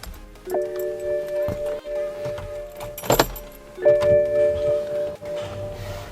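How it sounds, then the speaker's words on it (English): A BMW with an N54 engine being powered on, a series of electronic chimes and tones with clicks and a short rattling burst midway, heard close with no talking. "So let's go ahead and power on the car."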